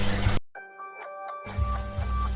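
A notification bell chime sounds alone for about a second, a short sequence of bright layered bell tones cutting through a brief silence between louder background music.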